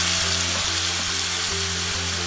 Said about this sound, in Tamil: இப்ப அதே நெய்யில நம்ம சீவி வச்சிருக்கிற ஆப்பிளை வதக்கிக்கலாம்.